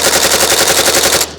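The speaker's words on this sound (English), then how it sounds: "now let's just burn down the rest of the mag" Rifle Dynamics AK in 5.45 emptying the rest of its magazine in one fast, loud, sustained burst of evenly spaced shots at close range, with no talking, cutting off sharply just before the end.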